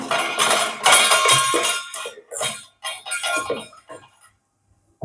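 Palappam batter being mixed in a bowl, a string of wet scraping and clinking strokes in uneven bursts, close and fairly loud, with short quiet gaps between and a soft tap at the end.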